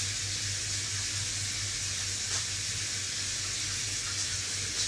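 Hot tap water runs steadily for hand washing, a constant close hiss and splash with a low hum underneath, no voices.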